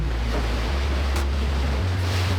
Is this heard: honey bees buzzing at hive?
no